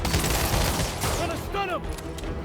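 Rapid enemy gunfire in Marvel's Spider-Man, a fusillade of shots crackling continuously over loud action noise, with voices talking over it.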